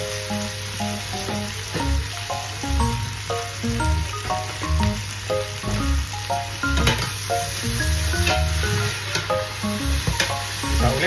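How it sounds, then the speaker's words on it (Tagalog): Eggplant sautés in a hot pan with a loud, steady sizzle, and a spatula stirs and scrapes in uneven rhythm. Faint music plays in the background, with no talking. "Gisa-gisa ulit. Lagyan natin si talong."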